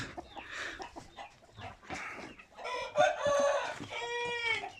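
Aseel chickens cluck and squawk busily on wet soil, then a rooster crows loudly near the end, with more crowing following close by.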